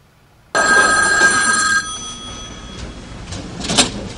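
After a call is dialed, a telephone gives one clear, loud electronic ring tone. It stops abruptly and leaves a quieter background hum with faint clicks.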